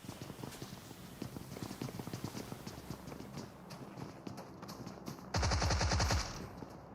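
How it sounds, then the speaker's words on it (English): Rapid video-game gunfire rattles through a clan tournament match in Clatter of Clans, with fast bursts of shots and a louder, dense blast of grenade explosions near the end. "tries a quick few shots up the side. Oh, up comes the nades"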